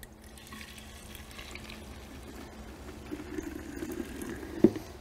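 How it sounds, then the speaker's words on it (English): Diluted detailing chemical poured from a measuring cup into a spray bottle, a soft steady trickle that builds slightly, ending in a brief splash; no talking. "And then from there, pouring this into our sprayer."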